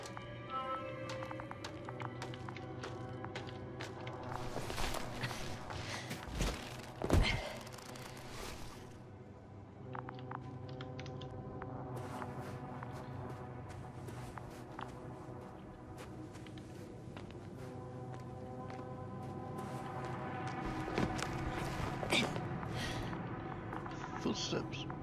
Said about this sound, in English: Footsteps.